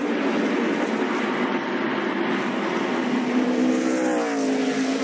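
NASCAR race cars coming off turn two into the final set of corners, a continuous roaring engine drone with one engine note rising in pitch near the end as a car passes, no talk heard.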